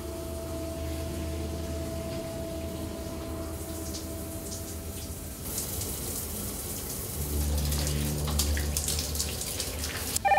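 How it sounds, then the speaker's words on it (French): A shower runs steadily in a house where a lone girl bathes, a continuous hiss of falling water that swells louder midway, with no voices. "Une fille, seule chez elle, sous la douche."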